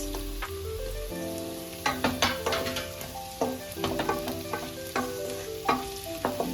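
Beans stirred into softened vegetables frying in a pan for chicken stew, giving repeated scraping, clattering stirs over a steady low sizzle, close and moderately loud, with faint tonal music underneath.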